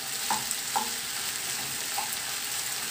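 Potatoes frying in an uncovered pan give a soft, steady sizzle, broken by a few faint scraping taps as they are stirred.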